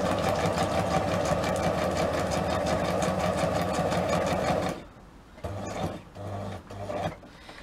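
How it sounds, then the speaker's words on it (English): A sewing machine stitches through paper in a loud, rapid, steady mechanical whir for several seconds, then stops and restarts in short bursts with quieter pauses between. "Loud noise of the sewing machine"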